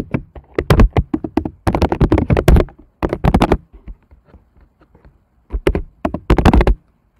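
Fingers typing text on a computer keyboard, close and clear, come in several quick runs of clicking keys separated by short pauses, with no voices.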